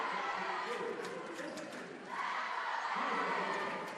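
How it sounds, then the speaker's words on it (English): A crowd roars and cheers at a high school volleyball match in a gym, a dense wash of voices swelling at the end, with faint speech mixed in. "You can hear that crowd."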